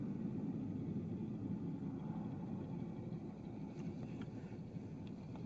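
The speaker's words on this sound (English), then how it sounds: "The one that's idling over here right now is a de Havilland beaver." A de Havilland Beaver floatplane idling on the water in Katmai, Alaska, a steady low engine rumble mixed with wind, constant and moderately distant with no talk.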